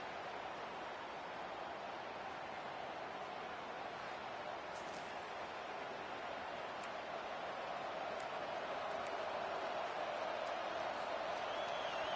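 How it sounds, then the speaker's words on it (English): A packed stadium crowd roars without letup at a Notre Dame versus Michigan State college football game, a loud, dense wall of noise that holds steady for the whole stretch. "This crowd, full throat, splitting the eardrums"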